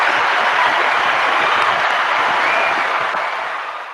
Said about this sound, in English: we need a round of applause for that one